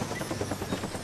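An attack helicopter in Call of Duty: Black Ops, on the Stadium map, gives a steady, loud rotor throb with rhythmic chopping pulses that fill the whole second without pause.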